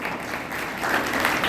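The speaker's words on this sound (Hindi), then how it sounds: "मैं अपने सभी पत्रकार बंधुओं के लिए भी जोरदार तालियां बजवाना चाहूंगा" An audience at an Indian stage event claps for the journalists, the applause continuing and swelling slightly louder partway through, with no speech over it.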